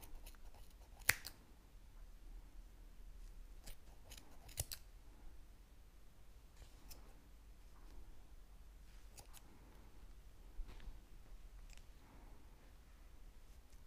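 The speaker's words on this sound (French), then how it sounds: "Donc ici, on va couper dans les boucles des deux côtés." Scissors snip through knitted yarn loops on a bunny bracelet, sharp isolated cuts spaced a second or more apart, close but quiet over soft handling noise, with no voices.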